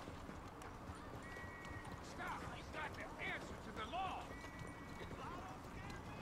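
Horse hooves clip-clopping in the video game Red Dead Redemption 2, a steady running patter under a bed of game ambience, with a soft whinny near the middle and no speech heard.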